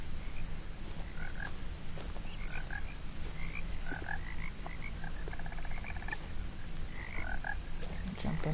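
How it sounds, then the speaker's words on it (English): Frogs croak in a swampy outdoor scene in the video game What Remains of Edith Finch, a steady chorus of repeated croaks and chirps over a continuous ambient wash, with no voices. "We all listen to frogs."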